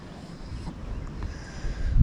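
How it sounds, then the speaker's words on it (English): Heavy wind buffets the microphone in an open field during spring turkey scouting, a low rumbling roar that swells toward the end, with no voices. "Wind is really heavy today"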